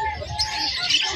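Euro budgies chirping at a busy pet market in Malabon, with a steady chatter of bright high-pitched tweets and warbles from many birds at once, moderately loud and continuous over low background noise.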